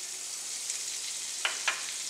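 Butter and maida sizzling together in a pan over a medium-to-low flame for white sauce, a steady soft frying hiss with two brief stirring scrapes.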